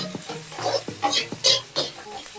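Two medium chopped onions stirred and sautéed in a hot pan for red sauce pasta: a steady sizzle with repeated scraping strokes of the spoon, close and fairly loud, with no talking.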